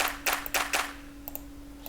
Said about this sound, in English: Some simple hi-hats, some claps here. As you can see, I used two claps, two layers.